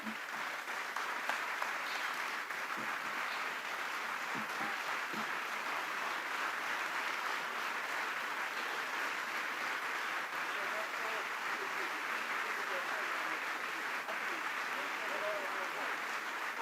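Sustained applause from a dinner audience at a Republican Party fundraising banquet, a dense steady clapping wash lasting throughout without a break, moderately loud and filling the room.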